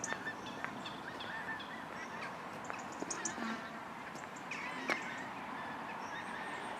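Geese honk on a seafront promenade at sunrise, with scattered short calls at a moderate distance over a steady outdoor hush.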